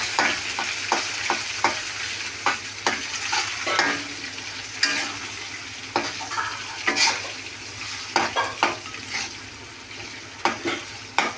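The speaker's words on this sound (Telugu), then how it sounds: "స్టవ్ ఆఫ్ చేసిన తర్వాతనే వేసి మామిడి తురుమును ఇలా కలియబెట్టాలి" Grated mango is stirred into rice in a pan off the heat, with a utensil scraping and clinking repeatedly in an irregular rhythm over a faint, steady background hiss; no voices.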